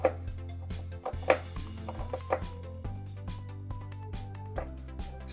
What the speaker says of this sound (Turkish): Sarımsağı doğruyorum.